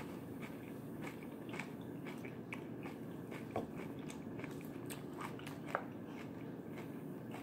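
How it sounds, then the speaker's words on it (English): Someone chews breakfast food close by, with soft, irregular crunchy bites and mouth sounds at a low, steady level and no talking. "excuse my chewing there"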